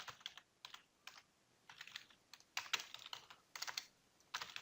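Typing on a computer keyboard while entering details into a text file: quiet, close key clicks in irregular bursts and short flurries with small gaps, no voice.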